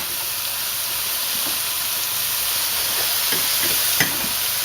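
Pork chops returned to a hot pan with wine give off a steady, broad sizzle and hiss that holds evenly throughout, with a few faint clicks near the end.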